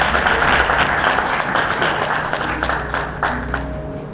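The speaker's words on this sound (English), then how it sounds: "Give her a round of applause just for the echo." Guests at a school appreciation award and dinner ceremony give an educator a loud round of applause, dense clapping in an echoing room that slowly tapers off.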